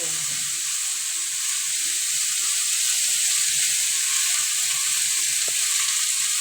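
Small shrimp fry in hot oil, giving a steady, even sizzle that fills the whole stretch with a bright hiss, close and moderately loud, with no talking.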